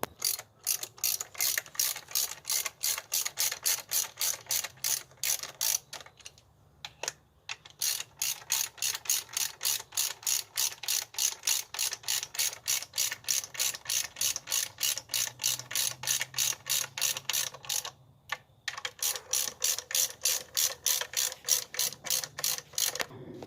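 Hand ratchet tightening a bolt on a 2005 Chevy Cavalier 2.2, a long run of fast, close clicking in steady bursts with two brief pauses, heard alone and loud.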